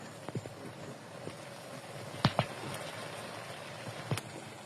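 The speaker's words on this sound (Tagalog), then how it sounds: "Kumukulo na" Coconut milk simmers softly in a pot for laing, with faint bubbling and a few sharp pops and clicks scattered over a low, steady background.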